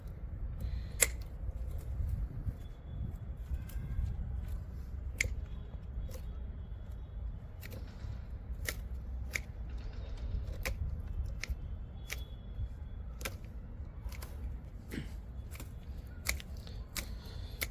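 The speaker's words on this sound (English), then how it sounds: "Now for some time you will listen to the sound of the scissors cutting through the leaves." Scissors cut through the leaves of a Divi Divi bonsai with sharp, crisp snips repeating steadily, roughly one every second or so, over a low rumbling background with no voices.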